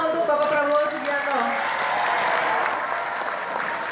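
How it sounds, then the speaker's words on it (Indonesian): An audience at an Indonesian business supporters' event claps in a dense, steady burst. The applause is loud and sustained, with some voices mixed in early on. "Tepuk tangan ya semua untuk Bapak Prabowo Subianto."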